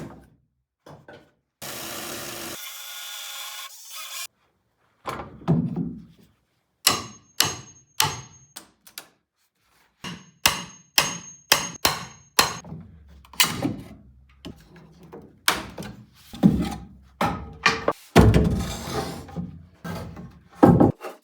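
Repeated blows struck into a 3-inch wooden beam with the body of a cordless drill whose battery has died, used like a hammer; sharp, close knocks come in irregular bursts with short pauses, plus some scraping and handling noise.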